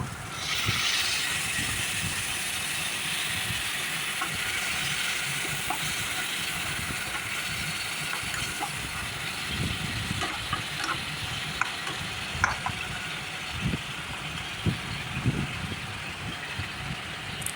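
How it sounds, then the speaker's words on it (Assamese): Spices sizzle and hiss steadily in a pan while frying for a pointed gourd and moong dal dish, with occasional scraping and stirring clicks, close and continuous with no talking. "এতিয়া গোটেইখিনি মছলাটো ধুনীয়াকৈ ভাজি লৈ"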